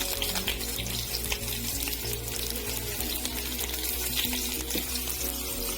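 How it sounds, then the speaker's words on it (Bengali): Onions frying in hot mustard oil in a wok, a steady close crackling sizzle with a watery hiss running evenly throughout, no voices. "সরষের তেলটা গরম হয়ে গেছে এখন পেঁয়াজ কিছু দিয়ে দিলাম"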